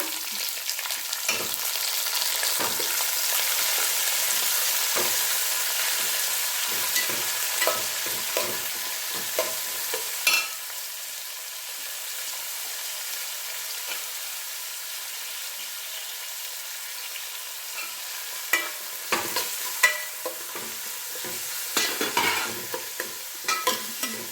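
Sliced onions, green chillies, curry leaves and coriander are stirred in a hot pan for tamarind rice, a loud, steady sizzle with repeated scraping and clacking of the spoon throughout.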